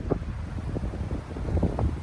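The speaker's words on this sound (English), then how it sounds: "even in the trees right here, it's so windy" Steady blustery wind rushing and gusting through trees outdoors during an elk hunt, a broad continuous roar with occasional swells, no voices.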